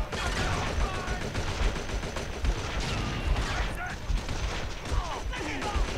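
Dense, rapid bursts of machine gun fire fill the whole stretch in the World War II strategy game The Outfit, loud and continuous with crashes mixed in, over a busy battle din.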